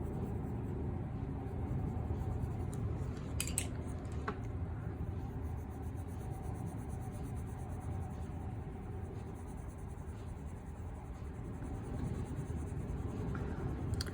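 Colouring pencil shading firmly in a second layer on quality adult colouring book paper, a steady close scratchy scribble running continuously throughout with no talking.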